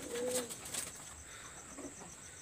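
Domestic pigeons, a male among a breeding pair, coo softly with a couple of brief low calls near the start, under a steady high-pitched hiss and faint bird chirps in a quiet indoor setting.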